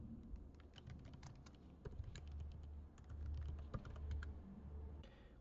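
Rapid, uneven keystrokes clatter on a computer keyboard as code is typed, a steady run of close, light clicks with brief pauses and a low background hum throughout.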